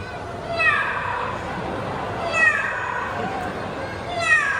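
A man at a bird park show imitates a very fierce cat, producing three harsh, rising yowls spaced about two seconds apart over steady crowd noise.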